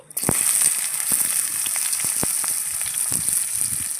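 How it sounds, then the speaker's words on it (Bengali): Chopped onions fry in hot oil with whole garam masala, a steady loud sizzle with scattered crackles and pops running throughout, no voices. "পেঁয়াজটা একটু লাল করে ভেজে নেবো"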